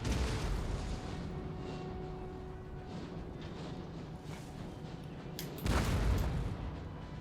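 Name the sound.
cannon firing in video game Napoleon: Total War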